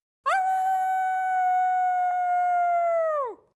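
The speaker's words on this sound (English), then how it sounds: "3 frenzied lightning wolves raised their heads as they howled long and loud." Wolves give one long, loud, sustained howl with a steady, drawn-out tone that holds for about three seconds and then drops away at the end, clear and alone with no talk.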